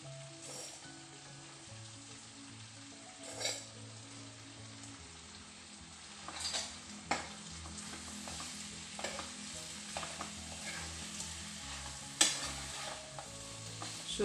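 Chicken with turmeric being stir-fried for chicken sukka, a soft steady sizzle with scattered spatula knocks and scrapes against the pan, under a low droning background hum, no speech.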